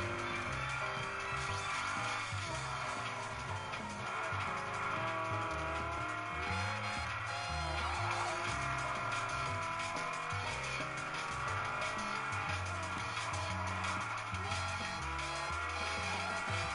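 Race car engine roaring steadily with tire squeal and skidding in Forza Motorsport 4 on Xbox 360, a loud continuous drone of revs and screeching tires throughout.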